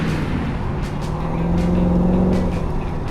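A 1932 Ford roadster with a mild engine and small camshaft accelerates, its loud, steady engine drone rising slightly in pitch, heard close up with wind rush and no talk.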